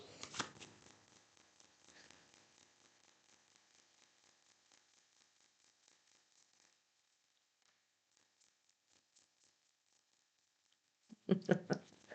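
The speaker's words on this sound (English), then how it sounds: "Now let me pull some cards." Tarot cards are pulled and shuffled close by, with soft riffling and sliding scrapes, a quieter stretch in the middle, and a louder flurry of handling at the end.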